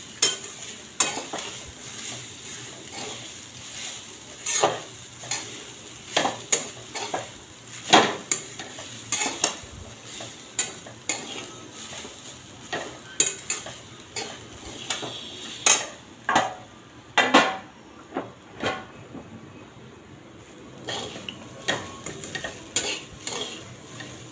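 Grated coconut stirred in a hot kadhai to dry off its moisture, with repeated scraping and clinking strokes of a spoon against the pan in an uneven rhythm and a faint sizzle underneath, close and clear, no talking.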